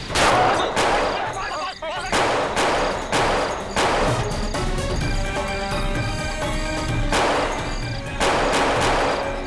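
Gunfire cracks out in repeated loud volleys amid a tense confrontation, shots separated by short gaps, with background noise and faint voices.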